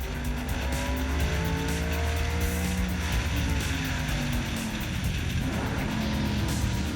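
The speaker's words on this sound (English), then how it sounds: "Groenewold slides his car trying to keep in front of Falconer" Large race car engines roar continuously, loud and near, with the tires squealing and skidding as a car slides across the track while battling for position.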